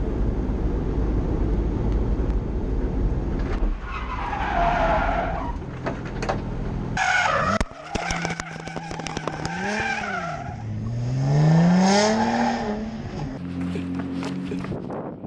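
An Audi S4 on a cooling lap at a drift day at Laitse Rallypark, engine revs rising and falling and tires squealing at times, fairly close and loud.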